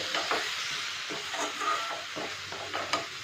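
Ritha fish eggs being stir-fried with ginger, garlic and dried red chilli paste, a soft continuous sizzle and hiss with light scraping stirs in the pan, close but fairly quiet, no voices.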